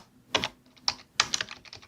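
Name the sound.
typing on a computer keyboard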